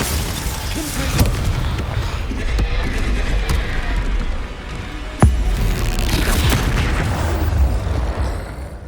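A Confringo fire spell in Hogwarts Legacy erupts as heavy booming blasts, with a sharp crack partway through and rumbling explosions and crackling combat noise rolling on around it, loud and close.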